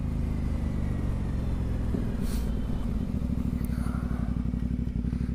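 An Aprilia Dorsoduro 900 motorcycle on a ride on a sunny day, its engine rumbling loud and steady with a pulsing low drone and wind noise mixed in.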